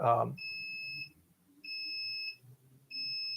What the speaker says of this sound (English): I have a surveillance system on my house, and when someone comes to the front door, it beeps.